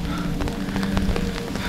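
Rain falls steadily in a forest near Thiruvannamalai, a dense, close hiss with scattered drops pattering on surfaces and no voices.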